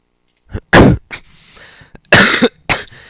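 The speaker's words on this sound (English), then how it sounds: "Excuse my coughing." A person coughs several times in short, harsh bursts close to the mic, with brief quiet gaps and a faint throaty rasp between them.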